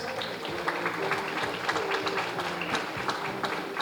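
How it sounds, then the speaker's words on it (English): An audience at a formal event with a lamp lighting ceremony keeps up a steady round of applause, many hands clapping in a dense, even patter throughout. "Can we have a round of applause?"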